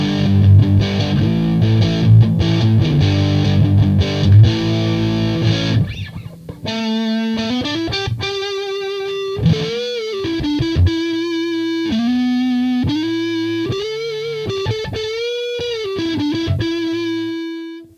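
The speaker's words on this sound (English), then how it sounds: "So that is the distortion." Electric guitar played through a Fender Hammertone distortion pedal, with heavy, chugging palm-muted chords at first, then a clean-toned stretch of sustained, gritty single notes with bends and vibrato, played alone and loud.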